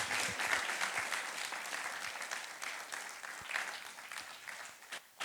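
An audience at an awards ceremony claps for a presenter, with fairly quiet, sustained applause from many hands that thins toward the end.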